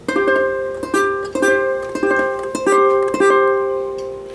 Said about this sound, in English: we're going to play a C power fifth